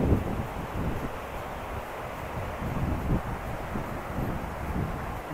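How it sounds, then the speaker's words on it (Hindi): Cool wind blowing along a riverside below a hilltop temple at Karanprayag, a low gusting rumble buffeting the microphone and swelling and easing with no voices. "अभी यहाँ पे काफ़ी अच्छी ठंडी ठंडी हवा चल रही है"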